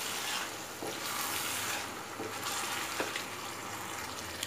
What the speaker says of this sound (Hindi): इसमें डाल दें, अच्छे से मिक्स करें इसको